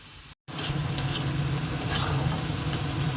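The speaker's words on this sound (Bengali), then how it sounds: "দিয়ে দিলাম টমেটো কুচনো রসুন বাটা আদা বাটা এবার এটা একটু ভাজা ভাজা করে নিই" Chopped tomato with garlic and ginger paste hits a hot pan after a brief silence, then fries with a loud, dense sizzle and light stirring scrapes, close up.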